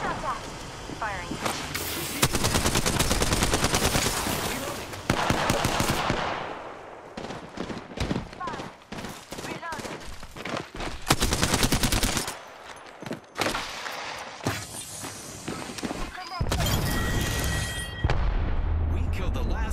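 Dense gunfire in the Apex Legends video game, heavy bursts of automatic fire and booming shots almost continuous and loud, with players talking over the action.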